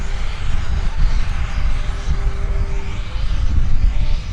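A C-17 Globemaster III powered by four Pratt & Whitney PW-117 engines at the 2014 Joint Base McGuire-Dix-Lakehurst open house off-load demo. It produces a loud, steady, broadband jet roar nearby.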